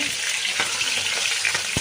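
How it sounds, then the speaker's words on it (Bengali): Katla fish pieces fry in a pan with a loud, continuous crackling sizzle close by, broken by a few light knocks and a sharper tap near the end as a piece is turned. "এক পিঠ ভাজা হয়ে গেছে এবার আরেক পিঠ উল্টে দিচ্ছি দিয়ে ভেজে নেব"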